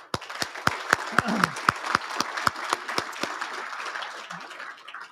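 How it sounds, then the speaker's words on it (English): An audience applauds awardees at a Wounded Warrior leadership awards ceremony, a sparse, steady run of distinct claps that slowly thins out over a few seconds. "Ladies and gentlemen, again, another round of applause for our awardees."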